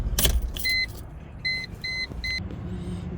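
A 2007 Mercedes G55 AMG engine runs with a low, steady rumble just after starting, with a brief jangle of keys at first and a series of four clear, evenly spaced dashboard warning chimes over the idle.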